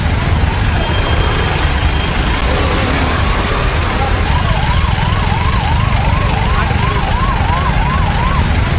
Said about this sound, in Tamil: ஏற்பட்டதால் ஆம்புலன்ஸ் வாகனம் சிக்கிக் கொண்டது.